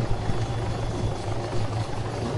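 A helicopter in the video game Arma 3, a loud, steady rotor thump and low engine drone heard up close and sustained throughout.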